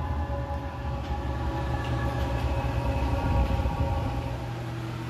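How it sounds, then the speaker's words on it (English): An 8K diesel air heater running just after its first ignition gives a steady low rumbling drone with a constant fan whir and faint tonal hum, moderately loud and close, without speech. "Oh, it just fired up. Hear it? I can hear rumbling."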